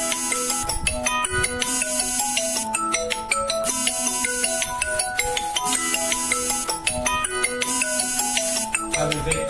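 A mobile phone ringtone plays a repeating melodic pattern loudly and continuously throughout, going off during a lecture.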